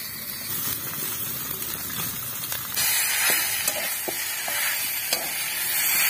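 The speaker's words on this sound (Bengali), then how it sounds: "বন্ধুরা, এরকম কিন্তু সবসময় নেড়ে যেতে হবে, রান্নাটা কিন্তু তলা লেগে তলা দিয়ে পুড়ে যাবে।" Chicken chop masala with boiled potatoes, cumin and chili powder sizzles steadily in a pan over village cooking heat. It is stirred with scraping clicks, and the frying hiss grows louder partway through. No one speaks.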